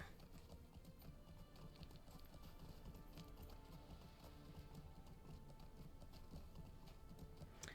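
Horse hooves clip-clop steadily in the Lord of the Rings Online game, a busy stream of rapid hoof beats with faint clicky taps mixed in, fairly quiet and continuous.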